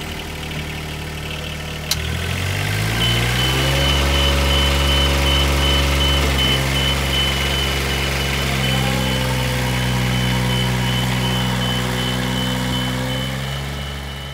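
A Duralift Jibbi boom lift drives in fast drive mode, its engine revving up to a steady loud drone with shifting pitch, beeping alarm tones running throughout and a sharp click near the start.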